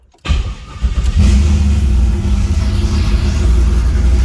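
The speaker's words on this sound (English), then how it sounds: "So I already had the car running to get it up to temp" A turbocharged Camaro engine starts up and settles into a loud, steady running rumble close by, with a slight rise in revs early on.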